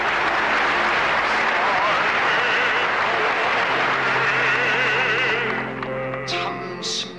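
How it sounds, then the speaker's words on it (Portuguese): Warm applause from a large audience fills a hall as religious leaders welcome arriving guests, a dense, steady roar of clapping that holds loudly, then thins out near the end while a voice talks over it. "o saguão se enche de um caloroso aplauso"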